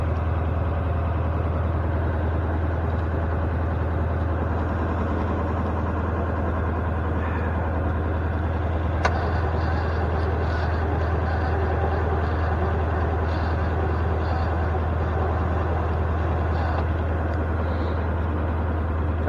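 Ford F-600 truck with a suspected bad starter, its engine running steadily throughout with a low, constant idle drone close by and a single sharp click partway through.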